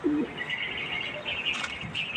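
Birds chirp and coo continuously in a busy bird loft, a low cooing call near the start, steady twittering throughout at moderate volume.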